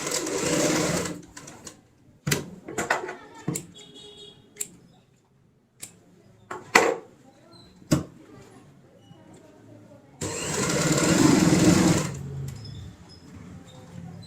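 A home sewing machine runs in two sustained bursts, one at the start and a longer one near the end, stitching a handmade ladies' purse, with scattered clicks, taps and handling noises between.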